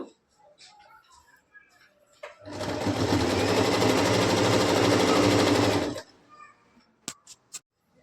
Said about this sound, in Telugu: సీదా వేసుకొని ఇప్పుడు ఇటు సైడ్ బాటమ్ పార్ట్ కుడుతున్నాను.